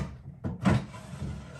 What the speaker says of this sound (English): I'm going to pull these drawers out.